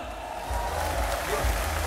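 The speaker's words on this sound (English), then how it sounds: "Let's give the Pakistanis a big hand clap" An audience claps together for a group of Pakistani students at an academy event, a brief continuous patter of hands with a low rumble beneath.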